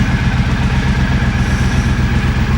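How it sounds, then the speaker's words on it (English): A motorcycle engine runs steadily and loud while riding around town on a miserable day, a close, continuous low throbbing drone with no talking. "Horrible day to be riding a bike."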